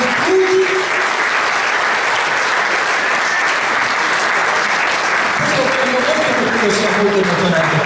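Sustained audience applause fills a hall at an inclusive-project event honoring the Leoni di San Marco, dense and steady throughout with a few voices calling out beneath it.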